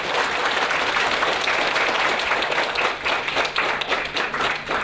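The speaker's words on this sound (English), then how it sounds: "Let us once again, with warm applause, thank Khenpo." Audience applause after a lecture on Tibetan medicine, a sustained dense clapping from a large crowd, loud and even before thinning into more scattered, distinct claps near the end.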